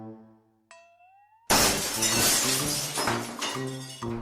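Glass shatters abruptly after a short tonal ring and rising whine, a loud burst of crashing shards followed by tinkling debris and rhythmic thumps that fade out.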